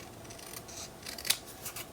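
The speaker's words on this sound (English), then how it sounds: "I'm going to trim this out a little bit because I think there's just a little too much black showing." Scissors trim paper for a mini album cover, faint close snips and soft cutting rasps in a quiet room.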